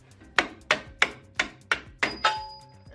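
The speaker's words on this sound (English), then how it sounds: "I put a screwdriver there and drove this screw out of the hole." Seven sharp metallic hammer blows on a screwdriver driving a screw out during engine and transmission removal from a Mitsubishi Eclipse, evenly spaced and close, with ringing decay after each strike.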